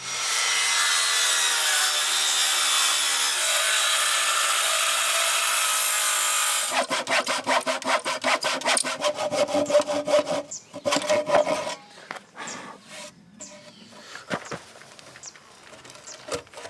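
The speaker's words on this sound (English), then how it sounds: "I think what I'm going to do is cut a piece out of this piece and that side piece so it can kind of slot over the top" A wooden board is cut for a ramp on a DIY tiny house, opening with a steady, loud roar, then breaking into quick, close back-and-forth sawing strokes with uneven pauses.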